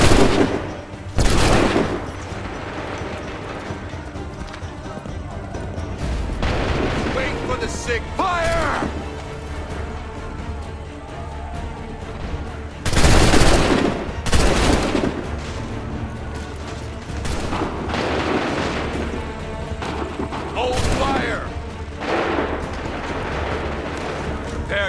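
Musket volleys in the game Assassin's Creed 3, several loud booming bursts with long rumbling tails spread across the stretch, mixed with shouted voices and battlefield din.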